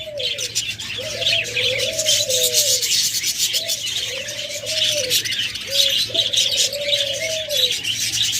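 Caged cockatiels and lovebirds keep up a dense, continuous chatter of high chirps, with louder drawn-out calls rising out of it every second or so, close and with no voices.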